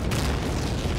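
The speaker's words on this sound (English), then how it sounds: "Grenade from Roma." A grenade goes off in the World War II strategy game Men of War: Assault Squad, giving a dense, rumbling blast that stays loud and steady across the whole short moment with no talk over it.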